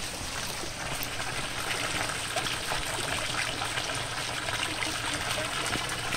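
A clear stream flows through a Taebaeksan mountain valley, making a steady, full rushing babble of water close by. It runs continuously with no voices.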